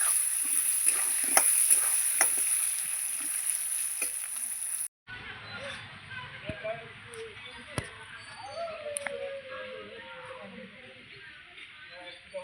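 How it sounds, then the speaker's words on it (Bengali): Potatoes frying in oil with salt and turmeric, a steady sizzle with occasional spoon clicks, then a sudden cut to a quieter, lower hiss with scattered taps. "লবণ, একটু হলুদ দিয়ে আলুটাকে আমি লাল লাল করে ভেজে নেব"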